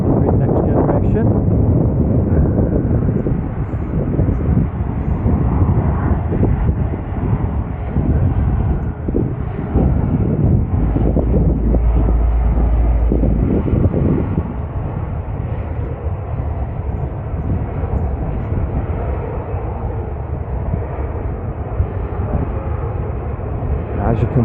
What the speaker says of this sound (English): We've got a Norwegian Airways Boeing 737-800 next generation.